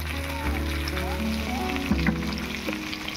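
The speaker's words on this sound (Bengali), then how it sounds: "ওলটাকে এবারে ভালো করে ভেজে নেব।" Pieces of elephant foot yam fry in a pan with salt and a little turmeric, giving a steady, close sizzle with faint crackles and a few soft stirring scrapes throughout.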